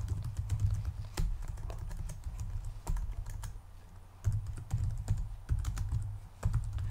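Typing on a computer keyboard, quick irregular clicks in short bursts with small pauses, close and fairly quiet over a low background hum.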